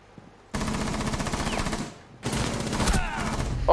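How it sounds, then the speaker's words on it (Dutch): Bursts of automatic gunfire fired through a wall in the video game Rainbow Six Siege, two loud sustained volleys separated by a short pause, with no talking. "Schiet door de muur."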